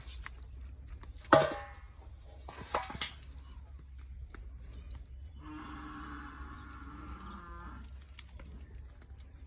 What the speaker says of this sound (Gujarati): હજુ મારા દાદી એમનો વાડો છે એમને ભેંસું છે અંદર બાંધી